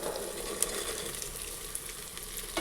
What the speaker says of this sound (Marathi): वाटाणे कडक असल्यामुळे ते पण कांद्यासोबत जरा भाजून घ्यायचे आधी